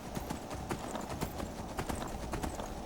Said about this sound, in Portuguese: Preciso do meu cavalo